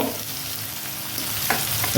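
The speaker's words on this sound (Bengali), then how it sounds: "রসুনটাও দিয়ে দেবো এটা ভালো করে ভেজে নেব" Garlic frying in hot oil, a dense continuous sizzle heard close up, with a couple of brief stirring scrapes toward the end and no talk.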